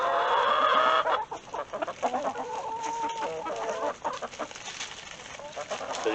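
A chicken clucks and warbles in a series of short, close, rhythmic calls after a brief burst of higher squawking.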